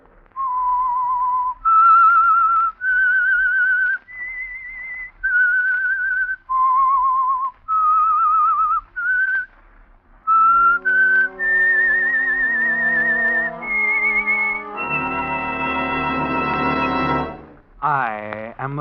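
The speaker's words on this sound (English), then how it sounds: "That whistle is your signal for the Signal Oil Program" A whistled signature tune for The Whistler radio mystery program: a clear solo whistle in a series of held, stepped notes, followed by a louder orchestral passage with rich sustained chords that swells and ends in a brief sweep.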